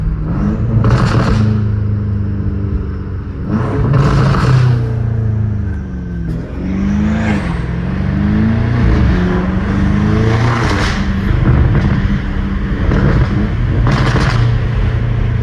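BMW F90 M5 Competition engine revving, a loud close exhaust drone with repeated rising and falling revs and a deep rumble underneath.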